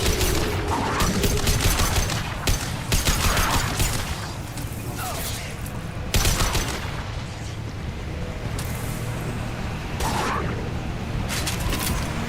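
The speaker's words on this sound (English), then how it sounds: "Taking heavy fire!" Heavy gunfire from the video game Mass Effect: Legendary Edition, with repeated loud bursts and booms that come in waves over a constant battle din, separated by brief lulls.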